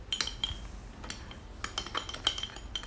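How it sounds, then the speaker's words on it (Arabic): A vinegar, lemon juice and baker's yeast mixture being stirred briskly in a bowl, with a spoon giving repeated light clinks and scrapes against the sides at an uneven rhythm, close and fairly quiet. "غنبقى نحرك مزيان حتى يتجانسوا ليا بجوج بهم مزيان مزيان مزيان"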